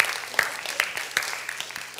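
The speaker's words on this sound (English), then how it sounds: "Round of applause for our four helpers." Scattered applause from a small group at a church Sunday service, a few distinct claps over a short stretch with a faint voice underneath.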